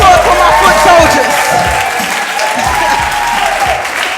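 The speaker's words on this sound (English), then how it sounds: "give a round of applause for my foot soldiers" Audience applause at an all-stars talent show, dense steady clapping from a sizeable crowd with music continuing underneath and a voice calling out over it.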